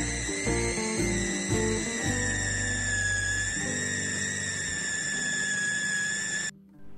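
An electric food chopper whirs steadily, grinding a chicken, egg white and ground pepper mixture for egg rolls, with a high motor whine and the blade's pitch shifting as the contents smooth out before it cuts off near the end.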